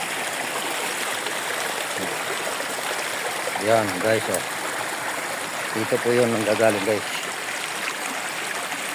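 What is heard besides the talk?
water flowing from mountain cave at Kabuayahan falls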